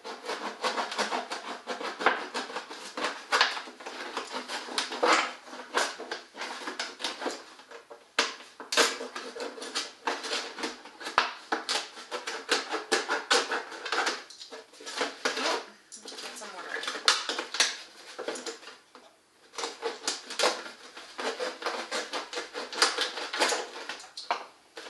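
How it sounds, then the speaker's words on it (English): A box knife saws through a plastic milk jug, cutting it in half with dense, scraping, crackling strokes that run continuously at close range, broken by short pauses. "I'm just using a box knife to do this"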